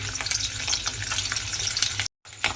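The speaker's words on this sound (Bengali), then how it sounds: "পনিরগুলোকে একটু হালকা লাল করে ভেজে নেব" Paneer cubes frying lightly in oil, a continuous crackling sizzle with stirring scrapes, cut by a momentary silence before resuming.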